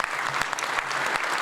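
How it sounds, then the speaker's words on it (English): An indoor crowd at a police honor awards ceremony applauds the national anthem singers, dense steady clapping throughout, fairly loud and without speech. "Let's give them a round of applause."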